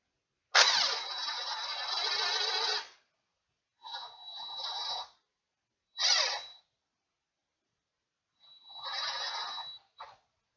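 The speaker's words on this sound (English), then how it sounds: "So you guys can see I'm not full on tightening down the clamp with my tool" A tool tightens a hose clamp during a RotoFab intake install on a 6th-gen Camaro ZL1, running in four separate whirring bursts of a few seconds each, close up, with short pauses between them.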